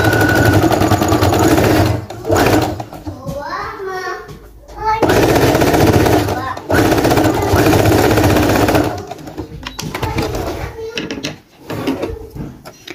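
A sewing machine runs loud and close, stitching a half-centimetre seam to join the crotch piece of a child's overalls in rapid rattling bursts broken by short pauses.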